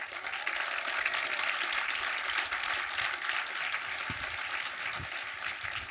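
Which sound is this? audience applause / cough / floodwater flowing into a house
audience applause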